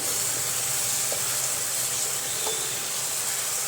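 Masala for an aloo pakora curry fries in a pan with water added, making a constant loud sizzle and steamy hiss with faint bubbling pops.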